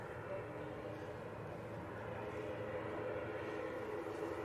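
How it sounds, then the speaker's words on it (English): A Pilatus PC-24 business jet inbound from Madrid drones steadily at a distance, a low, even engine rumble holding for the whole stretch with no clear rise or fade. "PC24 coming in from Madrid"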